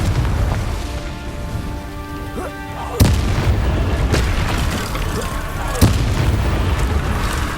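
Explosive Confringo and Incendio spell blasts in Hogwarts Legacy boom out over a rumbling combat backdrop, with two sharp heavy detonations about three seconds apart and a soft whistling tone early on.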